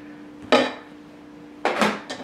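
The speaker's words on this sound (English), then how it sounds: "I spend more time scraping down this beater." A mixer beater caked in cheese mixture for a Polish cheesecake is scraped, giving two or three brief metallic clinks and scrapes separated by a quiet gap.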